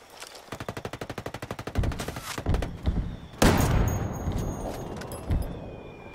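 Rapid automatic gunfire in the tactical shooter Ghost Recon Wildlands, a steady burst of shots followed by heavier irregular blasts and a loud boom, with no talk.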